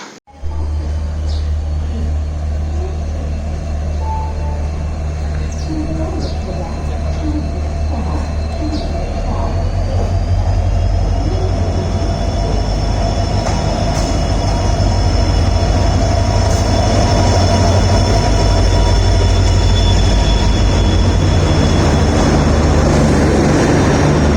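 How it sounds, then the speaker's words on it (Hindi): Dadar Tirunelveli Express arriving at a station on the Konkan railway in the rain, a loud steady rumble of wheels and carriages building and holding close by, with faint voices and a brief whistle-like tone above it. "फिलहाल ट्रेन आ रहे हैं, जस्ट एन्जॉय इट्स अराइवल."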